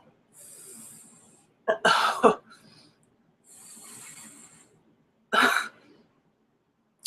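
Peppermint essential oil breathed in deeply from cupped hands: two long hissing inhales through the nose, each followed by a sudden loud cough-like exhale burst, close and isolated against silence.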